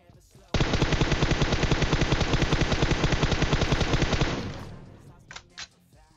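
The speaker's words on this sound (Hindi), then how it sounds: "पीछे की तरफ भी कोई ना कोई गोलियां पेल रहा था पहाड़ियों की तरफ" Sustained automatic gunfire in the PUBG Mobile shooter game, a rapid unbroken stream of shots lasting several seconds, loud and close, then fading into a few brief sharp bursts.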